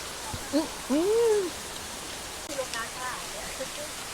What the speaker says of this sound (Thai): เสียงฝนอย่างงี้นี่บอกเสียงฝน